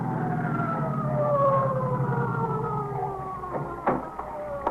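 An ambulance siren wails with long falling tones, sweeping continuously under a low engine rumble as it approaches, fairly loud, with a couple of sharp knocks near the end.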